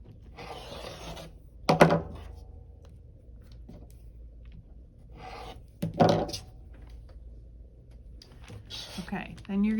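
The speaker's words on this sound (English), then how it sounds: "trim off your excess fabric" Excess fabric is trimmed along an add-a-quarter ruler during foundation paper piecing, giving two short, close rasping cuts separated by quiet handling sounds.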